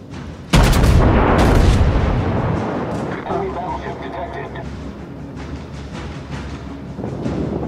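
Battleship main guns firing in the World of Warships naval combat game: a heavy booming blast erupts sharply, followed by a second concussive shot and a long rumbling tail, with a voice talking over it.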